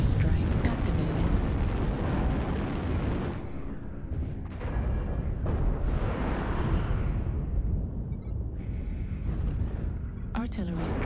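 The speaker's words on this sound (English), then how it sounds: "Artillery strike activated." Artillery strike explosions in a video game rumble and boom in a dense, sustained barrage, loud and close, with overlapping blasts and game voice callouts mixed in.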